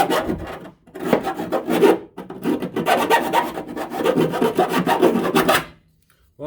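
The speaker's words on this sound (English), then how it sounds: "all you need for this is a decent half round file" A half round file rasps burrs off metal in repeated back-and-forth strokes, close and loud, with short pauses between strokes.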